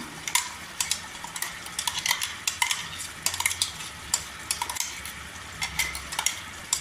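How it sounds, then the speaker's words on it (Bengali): Sour yogurt paste being stirred into a cooking pan of madhumoi potol (pointed gourd), with quick, close scraping and clinking of the utensil against the pan in an uneven rhythm. "টক দই এগুলো দিয়ে যে আমি পেস্টটা করে রেখেছি সেটা এবার আমি এতে দিলাম"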